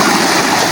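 A stream or river flowing close by in a forest setting, a steady broadband rush of water with no pauses, loud and continuous across the whole moment.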